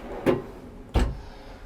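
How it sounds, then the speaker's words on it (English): A programmable room safe in a Disney Dream cruise cabin slides out like a drawer, giving two short, close thuds about two-thirds of a second apart in a quiet room. "It's kind of cool that it slides out like a drawer instead of with the door."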